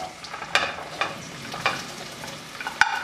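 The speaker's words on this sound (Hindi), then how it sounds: "ये हमने 3/4 कप ऑयल ले लिया। इसमें हम भिंडी को फ्राई करेंगे" Okra (bhindi) frying in about three-quarters of a cup of oil for dhaba-style bhindi masala, a faint steady sizzle with three or four louder crackles or stirring knocks spread across the moment.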